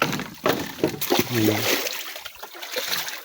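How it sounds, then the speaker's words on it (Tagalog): A weak trickle of water from a water system pipe, short close splashes and dribbling sounds with a brief voice partway through. "Mahina po ang tubig dito pero kahit pa paano hindi naman pala tuyo, may tubig, mahina nga lang."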